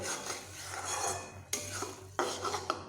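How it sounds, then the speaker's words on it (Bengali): A spatula stirs chopped ridge gourd in a metal cooking pan, scraping and clattering steadily, with three sharp knocks against the pan near the end. No one speaks. "এবার এইভাবে বেশ ভালোভাবে একটু নেড়ে নেব এইভাবে এখন আমি নাড়তেই থাকবো বেশ কিছুক্ষণ"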